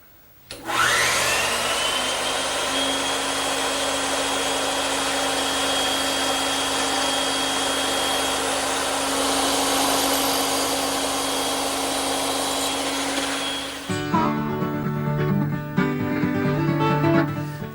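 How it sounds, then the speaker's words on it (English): A bandsaw trims wooden tenons for an English garden bench. It makes a loud, steady, high whine that runs unbroken for about thirteen seconds and then cuts off into clattering shop noise as the blade winds down. "Now I just have to trim up the tenons using the bandsaw."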